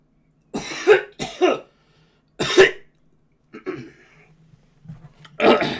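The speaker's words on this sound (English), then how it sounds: "I'm going to have another cough as well, I think. Clear my throat again." A person coughs several times in sharp, loud bursts, then clears their throat more quietly before one last hard cough, close and in a quiet room.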